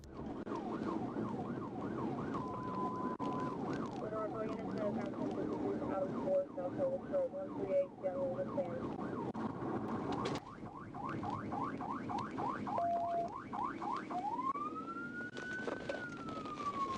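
A police siren wails and yelps in rapid cycling tones, loud and close, over steady engine and road noise, shifting into a long rising-falling wail near the end.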